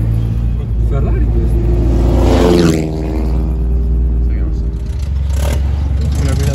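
A Ferrari engine revs up and drops back, loud and close over a steady low rumble of traffic, while people talk throughout in a busy outdoor street setting in Cortina.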